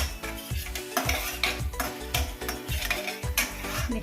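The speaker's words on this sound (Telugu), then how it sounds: "కొంచెం శనగపప్పు వేసి కొంచెం ఫ్రై అవ్వాలండి." Chana dal sizzles in a pan while a spoon stirs and scrapes against the metal in a repeated rhythm, with clinks of utensil on pan, close and fairly loud and with no talking.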